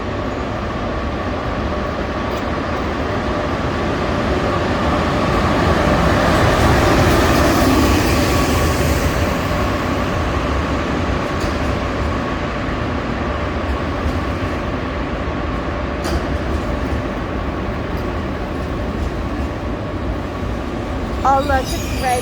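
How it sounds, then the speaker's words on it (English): A Swiss train pulls into a station platform with a loud, sustained rumble that swells and then eases as it slows nearby, steady rail noise throughout. "Oh look, it's right by us. It's gonna stop."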